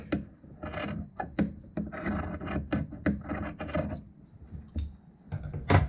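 Scissors or a cutter trims a quilt binding fabric seam up close, producing a series of soft rasping, rubbing cuts in irregular bursts with short pauses between.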